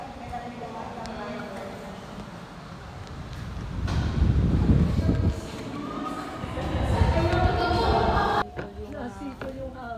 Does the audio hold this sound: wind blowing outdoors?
yes